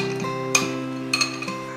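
A spoon stirs a sauce of water, soy sauce, oyster sauce, salt, sugar and chicken bouillon in a small bowl, giving a few light, close clinks against the bowl over a steady low hum, with no talking.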